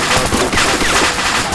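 A grenade launcher fires in ArmA 2 with the ACE mod, a loud, dense burst of gunfire-like blasts crowding the whole moment with continuous combat noise.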